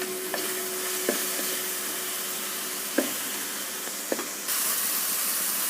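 Spices sizzle and fry steadily in a pan with guava and capsicum, a continuous close hiss broken by a few sharp scrapes and knocks of stirring, then a brighter, louder sizzle near the end.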